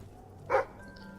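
A single short dog bark in Fable 3, one clear yap at moderate distance over faint background ambience, no talking.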